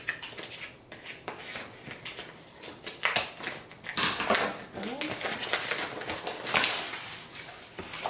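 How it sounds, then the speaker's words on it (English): Scissors snip and crinkle through the plastic packaging of a Big Beautiful Hair 4A Kinky wig, crisp cuts and rustles heard up close with a voice talking faintly at times. "I'm just gonna cut the pack."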